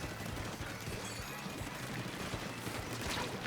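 Splatoon 3 gameplay gives off rapid bursts of ink shooting with sharp repeated pops under other game sounds, moderately loud and continuous.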